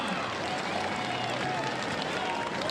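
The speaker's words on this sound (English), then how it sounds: "Huge round of applause for our first female competitor." Crowd applause at the finish of the Lorne Pier to Pub open-water swim for the first female finisher, a steady wash of clapping over outdoor noise with an announcer's voice mixed in throughout.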